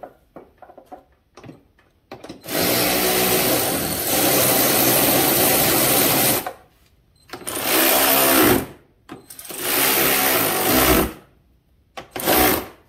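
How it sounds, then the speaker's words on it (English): A battery-operated ratchet spins in sustained bursts, three long runs of several seconds each separated by short pauses, loud and close. The work is being done on a Polaris Sportsman 850 ATV. "Let me go get my battery operated ratchet real quick."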